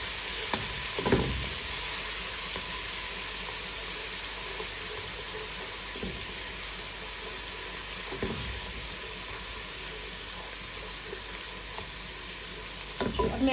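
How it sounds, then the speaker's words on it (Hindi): Cumin seeds sizzle in hot oil while a spoon stirs through them, a steady close frying crackle with occasional scraping strokes and no speech. "अब मैं ऐड कर रही हूँ इसके अंदर जीरा"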